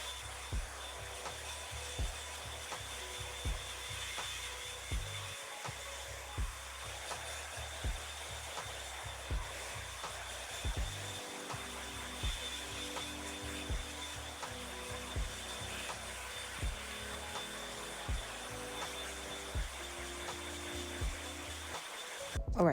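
A brush-attachment blow dryer from Ross runs continuously while natural hair is styled, a steady moderate whir with rhythmic brushing strokes and small clicks repeating throughout, ending with a brief knock.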